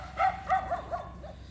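Puppies on a rural rice farm in the province give a string of about five short, high yips and whimpers, fairly close and alone.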